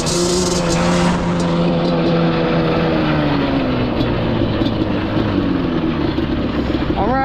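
A Yamaha Banshee ATV engine drones continuously at high revs while riding at Mountain Ridge ATV Park, loud and close with a steady pitch that slowly drifts, plus wind buffeting and a brief voice at the end.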